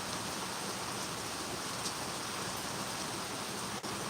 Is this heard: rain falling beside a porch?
yes